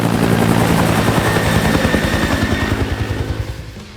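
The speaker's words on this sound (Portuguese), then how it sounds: "Enquanto isso, vemos um helicóptero particular" A helicopter's rotor thumps in a rapid steady beat with engine roar, loud and close, fading slightly toward the end.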